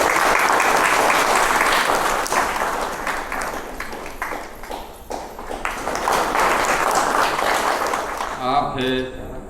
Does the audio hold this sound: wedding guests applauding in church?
yes